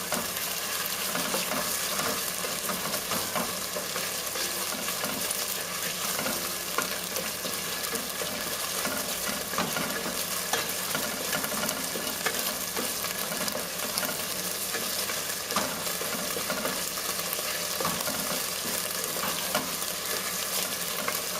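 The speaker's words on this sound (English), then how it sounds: "We'll proceed to cook the garlic out until it goes a sandy brown color." Garlic frying and being stirred in a pot for a Sicilian seafood chowder, a steady bright sizzle with occasional scraping stirs, close and continuous with no talking.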